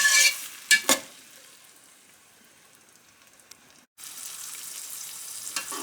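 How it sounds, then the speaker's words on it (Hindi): Onions fry in oil in a pan for mutton nihari, with a few clattering stirs at the start, then a soft sizzle that briefly drops out before a louder, steady frying hiss returns. "ओनियन को लाइट ब्राउन होने तक कुक करेंगे।"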